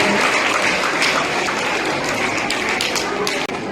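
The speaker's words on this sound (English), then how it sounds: "Please give a clap for the children who performed very wonderful today" Audience clapping at a St. Thomas School Christmas gathering after a children's performance, a steady wash of many hands throughout that breaks off briefly near the end.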